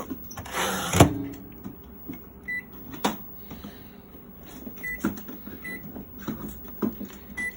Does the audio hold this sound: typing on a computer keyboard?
no